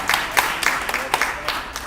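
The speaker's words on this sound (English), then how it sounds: "Yeah, give them a round of applause." Audience applause for candidates at a community candidate forum, a steady patter of claps with brief louder peaks, fairly close and moderate in level, with no talk over it.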